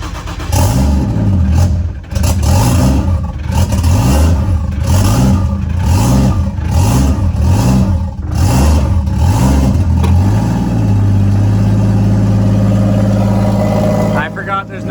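A Nissan 240SX with no exhaust fitted fires up for the first time in months, its raw engine revving in repeated rising and falling bursts before settling into a loud, rough idle, very close.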